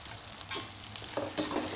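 Small shallot onions sautéing in a pan for a spicy Tamil puli kulambu, with a soft, steady sizzle broken by a few brief stirring scrapes, fairly quiet and close.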